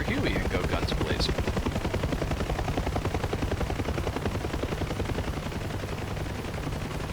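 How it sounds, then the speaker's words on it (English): Huey helicopter in the DCS World combat flight simulator, firing its guns and rockets: a dense, continuous roar of rotor and rapid gunfire bursts, loud and steady throughout with no pause. "now you can run in here with your Huey and go guns blazing"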